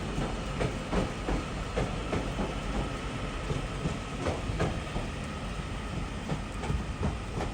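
A Northern train approaches a platform at a Manchester station with a steady rolling rumble and a run of repeated clickety-clack wheel beats over the rails, fairly close and continuous, with no voices.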